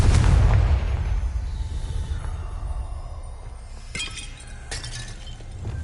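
A Confringo blasting spell from Hogwarts Legacy goes off as a loud, boomy burst with shattering, glassy debris, then rumbles down into scattered crackles and a couple of sharp later impacts.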